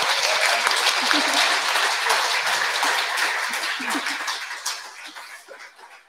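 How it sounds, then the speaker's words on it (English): Audience applause at a live music event for the sound crew, a full dense burst of clapping with some vocal reactions that gradually tapers off. "Have a round of applause for the sound now."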